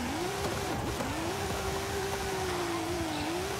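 A Datsun 240Z drag car engine in Forza Horizon 5, a steady raspy drone held at high revs with a slight dip and recovery near the start, heard close with no talking.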